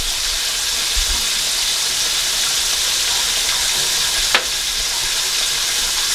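Buttermilk-battered chicken frying in a pan of hot oil, a steady dense sizzle and crackle running throughout, with one brief sharp pop near the end.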